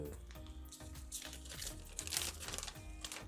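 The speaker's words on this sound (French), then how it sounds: "Ensuite, on va déballer ça." A small LEGO mini set package is unwrapped up close, its plastic giving off a steady, faint crinkling and crackling with no talk over it.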